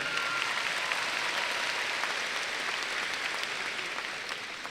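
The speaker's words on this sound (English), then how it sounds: "Let's give a big round of applause for Vanessa." A graduation crowd claps for a speaker in a broad, continuous wash of applause that holds steady and eases slightly toward the end. It sounds like a large audience heard from within the hall.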